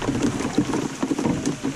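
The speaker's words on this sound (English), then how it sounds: "Hiding from the rain, guys." Steady rain falls during a rainstorm, a dense hiss with patters of drops on a surface, heard close by and alone for a short moment.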